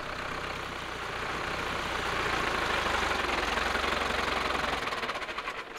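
A vehicle stuck on a rough mountain road toward Dolpa strains its engine in a steady, rumbling drone that swells and then knocks unevenly as it fades near the end.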